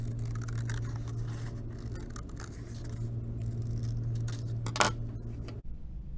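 Scissors snip out a paper piece for a yarn-wrapped fox craft, giving a run of close, quick cutting and scraping sounds over a steady low hum, with one sharper snip near the end before it goes quiet.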